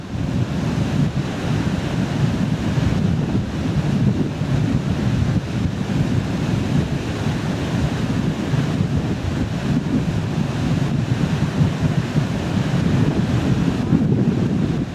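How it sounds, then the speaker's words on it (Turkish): Loud, continuous roar of waves washing onto the shore, mixed with heavy wind buffeting the microphone, with no pause throughout. "Die starken Wellen haben Schaum am Ufer erzeugt."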